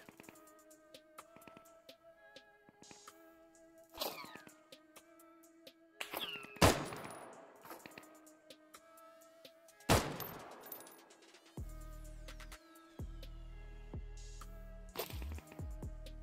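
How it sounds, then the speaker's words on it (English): Rifle fire in the video game Deadside, rounds shot into a bush, comes as scattered sharp cracks and a few bursts over faint game ambience, with some low thumps near the end. "Just shooting rounds into that bush now."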